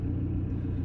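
A car idles in slow traffic, giving a steady low engine rumble from inside the cabin with no voices, constant and unchanging throughout.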